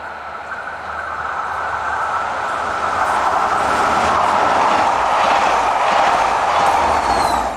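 Freight-livery BB 67530 locomotive at the rear of a northbound local train rolling past, a steady loud broadband rumble and rail roar that swells slightly and holds throughout, with no talk.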